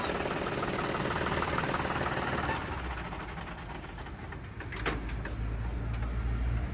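A 5405 tractor engine idles with a steady low rumble and knocking throb, close and constant, with a brief clank partway through.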